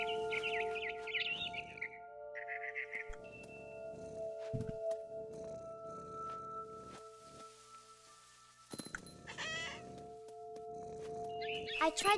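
Birds in the game What Remains of Edith Finch: repeated chirps and tweets over a quiet ambient background, with a few soft rustles and taps between the calls.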